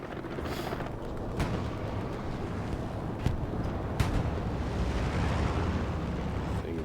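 An aircraft strafing run in the game Hell Let Loose brings a rumbling roar with a few sharp gunfire cracks, loud and continuous with no talk.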